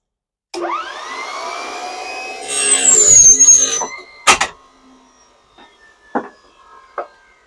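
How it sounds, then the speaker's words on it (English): Compressed air blasts through a hydraulic hose in a single long rushing hiss, swelling louder near the end, then a few short sharp knocks and clatters follow as the hose is handled. "Blow the hose out, clear it of any debris."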